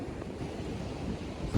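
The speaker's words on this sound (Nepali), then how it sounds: "वाउ, हेर न अझै छाल कस्तो आएको नि हावा।" Ocean waves and wind roll along the coast of the Great Ocean Road as a steady, broad rushing roar, fairly loud and unbroken for a brief moment, with no talking.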